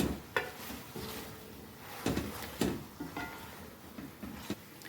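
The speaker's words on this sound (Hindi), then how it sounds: "और अब हम कढ़ाई को अच्छी तरह मिक्स कर लेते हैं" Chicken karahi stirred in a pan, with soft sizzling beneath intermittent scraping and clinking strokes of a utensil against the metal, close and moderately quiet.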